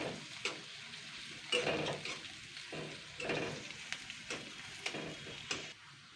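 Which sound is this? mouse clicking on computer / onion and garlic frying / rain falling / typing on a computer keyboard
onion and garlic frying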